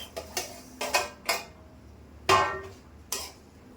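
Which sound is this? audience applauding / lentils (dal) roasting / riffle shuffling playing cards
lentils (dal) roasting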